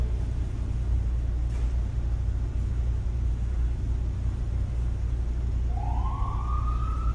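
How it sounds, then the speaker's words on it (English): A fire engine siren rises on a Brooklyn, New York street, starting faint and distant and swelling upward near the end over a constant low rumble of city traffic. "The police, I don't know if you heard the police,"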